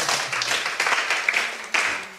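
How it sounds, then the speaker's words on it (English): An audience claps for a schoolgirl who has finished secondary school, a close, continuous patter of many hands at fairly even strength, with no talking over it. "Now clap for her"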